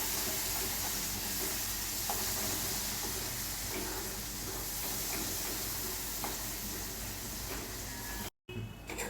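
Garlic onion chutney cooks in oil over low heat with a steady, soft sizzle and hiss that carries on evenly throughout, cutting out briefly near the end.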